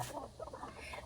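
Chickens cluck softly and faintly in short, broken bursts close by, over a quiet background.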